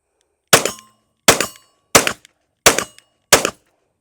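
Five sharp 9mm pistol shots ring out at an even pace, each a loud, close crack that decays quickly into silence before the next shot.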